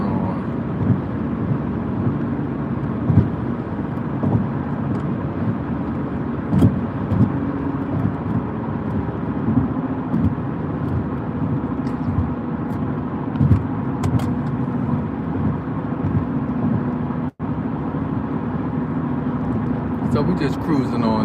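A car drives along a parkway into Washington DC on a morning commute, giving a steady, close road and engine rumble with tire noise throughout, and someone talking over it at times.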